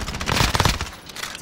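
Dense, loud rapid gunfire in Call of Duty Modern Warfare Warzone, a continuous close fusillade of overlapping shots that eases slightly near the end.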